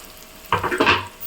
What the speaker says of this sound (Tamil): இப்போ நம்ம பச்சை மிளகாய் போட்டுக்கலாம்.